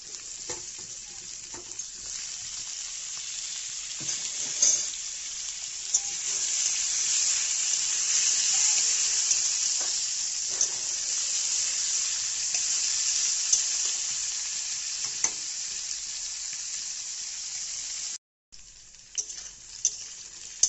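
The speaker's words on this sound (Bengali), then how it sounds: "সবজিগুলো ভাজা হয়ে গেছে" Vegetables fry in a pan, making a steady, close sizzle with occasional stirring clatter that runs almost continuously, then breaks off briefly near the end.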